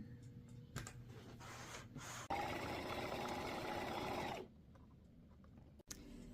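A sewing machine stitches fabric for a travel organizer, running in one continuous burst of about two seconds between quieter handling noises, close and fairly soft.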